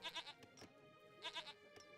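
A goat bleats twice in a video game, Age of Empires 3, each call a short wavering cry, fairly faint and alone.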